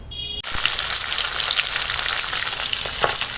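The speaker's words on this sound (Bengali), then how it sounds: "তো দেখো এখন মাছ মুড়ো সব ভাজা হয়ে গেছে" Fish head frying in hot oil, a dense, loud crackling sizzle that cuts in abruptly and continues steadily, with a couple of faint utensil taps near the end.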